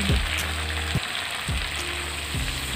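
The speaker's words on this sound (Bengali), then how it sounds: "মাংসটাকে কষে নিচ্ছি" Country chicken and potatoes sizzle and fry steadily in a pan at close range. Occasional low scrapes and knocks sound through the frying, with no voices.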